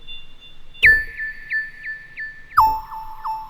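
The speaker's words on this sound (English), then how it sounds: "The next thing I added was this little pluck, kind of cool little plucky, chimey sounding thing." A plucky, chimey synthesizer patch from Serum plays bright, bell-like notes, with a few quick repeated plucks on a held pitch, then a lower phrase after a short break. The notes are clear and alone.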